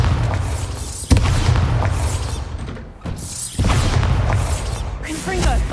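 Bombarda spell blasts in the video game Hogwarts Legacy: loud booming explosions with crackling debris and whooshes, repeated in bursts over dense combat noise, with a voice calling out.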